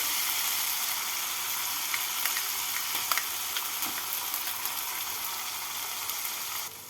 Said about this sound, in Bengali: আদা রসুন বাটাটাকে তেলের মধ্যে নাড়াচাড়া করে নেবো